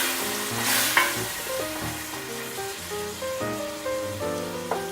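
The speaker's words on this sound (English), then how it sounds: "Make sure it's sizzling nicely." Tomatoes dumped into a hot pan for chicken curry sizzle loudly and steadily, with spatters and clatter from stirring over a busy, crackling frying hiss.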